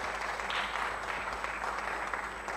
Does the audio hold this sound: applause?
yes